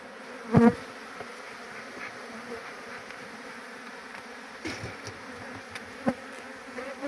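Steady buzzing of many honeybees at a hive in January fills the air, close and continuous, with a few louder passes of individual bees darting near.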